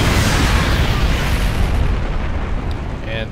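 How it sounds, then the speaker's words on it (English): A nuke from the Odin, a giant mech in StarCraft II, goes off as one huge, loud boom with a deep rumbling roar that slowly fades. "And the Odin has a nuke."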